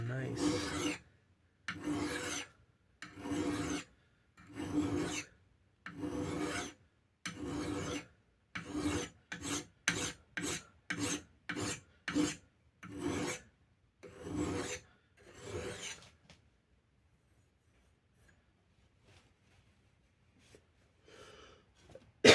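A hand file rasps across a vintage Rixford New England steel axe head in about twenty close, rhythmic strokes that speed up midway, then stop, leaving near silence.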